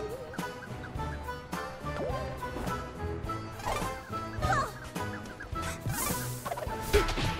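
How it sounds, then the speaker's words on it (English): Birds cluck and squawk in the video game A Hat in Time, a busy overlapping flock of chicken-like calls set over game music, with bursts of louder clucks. "Get out of here, you stupid birds."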